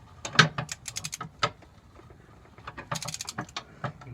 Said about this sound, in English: For some reason the angle won't let you get the torque wrench on it.